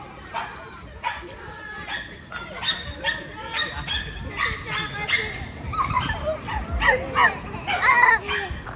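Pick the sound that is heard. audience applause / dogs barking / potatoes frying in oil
dogs barking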